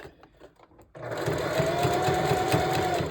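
A sewing machine sews hair tracks onto a mesh dome cap, starting abruptly after a quiet moment into a fast steady whirring run with rapid needle beats, close and loud.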